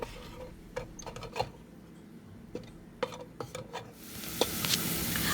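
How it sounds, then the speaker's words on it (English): Coconut oil heating in the pot of a hot rice cooker: scattered small ticks and clicks, then a soft hissing sizzle rises toward the end, with no talking. "Turn on your rice cooker, and when it's hot, put in the coconut oil."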